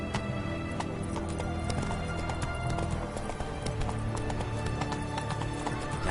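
Roach, a horse in The Witcher 3, gallops with rapid, steady hoof clip-clops and an occasional whinny, close and continuous under game ambience.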